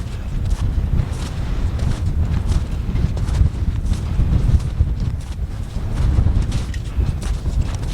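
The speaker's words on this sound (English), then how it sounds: "this wind is not letting up" Strong gusting wind buffets a winter campsite, a constant low roar with rough flutter pressing close throughout, no voices.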